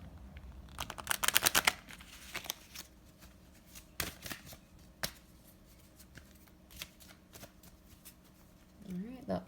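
Oracle cards being shuffled, a quick burst of riffling slaps followed by scattered softer card flicks and taps, close and quiet. A voice is briefly heard near the end.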